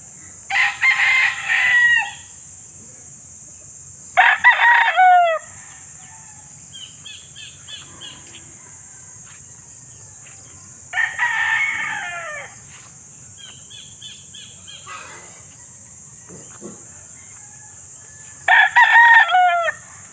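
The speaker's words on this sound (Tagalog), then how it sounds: "Ito, mga manok pa yan, oh." Young Texas-breed roosters and hens in a rural coop give repeated loud crows in separate bursts, with quieter clucks between them over a steady outdoor hum.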